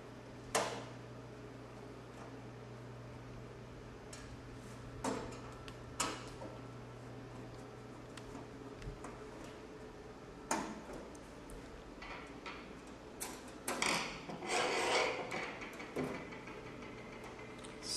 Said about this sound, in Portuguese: Esse tipo de parafuso é mais comum a chave Phillips, né? Então, vou desparafusar ele.